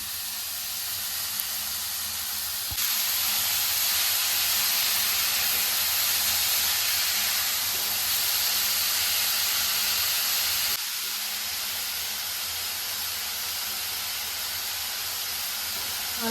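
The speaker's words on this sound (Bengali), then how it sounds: "তেলটা গরম হয়ে গেছে, এবার সবজিগুলো দিয়ে দিচ্ছি।" Vegetables for a veg momo filling fry in hot oil with a loud, steady hiss. The hiss swells sharply for several seconds, then settles back to a softer, continuous sizzle.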